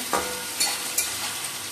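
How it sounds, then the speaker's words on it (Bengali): Onions sizzle as they fry in hot white oil for beresta, a steady bright crackle with a few sharper spits and stirring scrapes, close up and without voices. "তেলটা গরম হয়ে গেছে, আমি বেরেস্তার পেঁয়াজটা দিয়ে দিচ্ছি। আমি সুন্দর করে ভাজবো।"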